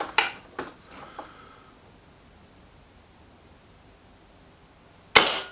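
Shots from a Kral Pro 500 air gun come as a few sharp, close cracks near the start with quieter knocks after them, then near-silence, then one more loud pop at the end.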